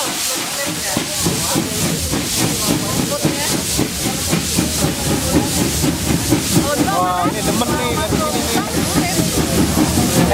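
Wood-fired steam locomotive hissing steadily and loudly close by during a railfanning ride, with rhythmic rail clatter underneath and people talking over it.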